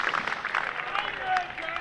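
Prolonged applause ripples around a cricket ground during a Sussex versus Warwickshire County Championship match, honouring Jack Leaning's century on his home debut; steady crowd clapping fills the space at a moderate distance, with some voices mixed in.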